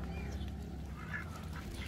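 Muscovy ducks at a small home farm jostling over feed, with soft quacks and low bill-and-feed noise in a steady, close, fairly quiet bustle; a faint voice sits underneath.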